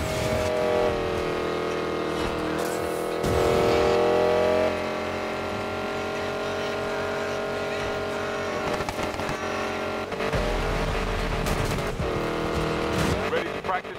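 Hypercar racing in Need for Speed Payback, engines revving and shifting through gears with tire squeal, while voices talk over the game audio.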